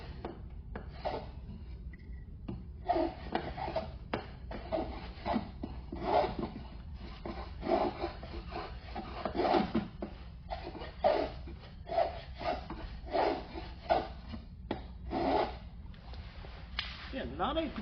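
Hand plane taking push and pull strokes along a convex roundover on a wooden workpiece, a steady run of close, rasping shaving strokes with short pauses between them.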